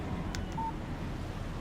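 Short electronic alert tones from a phone receiving a text message in the video game Alan Wake, a couple of brief beeps over a low background hum, fairly faint.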